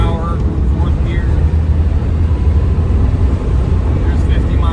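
A 1996 Land Rover Defender 90 with a 300Tdi diesel accelerates downhill, its engine droning loud and steady from inside the cab under a dense rush of road and wind noise.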